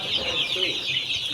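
Twenty-day-old tiger breed chickens on a farm, a dense chorus of soft clucks and chirps close by, continuous with no clear pauses.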